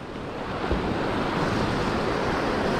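Choppy sea breaking on a UK shore at dawn under overcast skies during bass fishing with big tides, a steady, loud wash of surf and wind noise filling the whole stretch with no pause.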